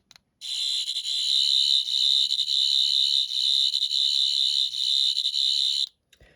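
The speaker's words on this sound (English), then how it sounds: "you have the Sonic either fixing its sound effect, or I like to think of it as welding" A Rubbertoe Replicas 10th Doctor sonic screwdriver emits its high, shrill electronic fixing whine, one loud sustained tone with a slight warble lasting several seconds before cutting off abruptly.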